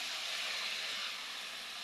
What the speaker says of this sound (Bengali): মশলা ভাজা হয়ে গেছে, অল্প একটু জল দিয়ে দিচ্ছি